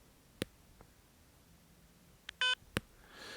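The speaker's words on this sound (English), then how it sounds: "So it's a very faint beep," A short, faint beep from electronic hearing protection rings out once amid quiet background hiss, with a few soft clicks before and after.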